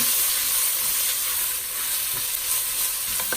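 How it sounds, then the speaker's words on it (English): Carrots being stirred in a hot pot for pork and pineapple fried rice, a loud continuous sizzle and hiss with faint scraping, close by. "Let's give this a stir."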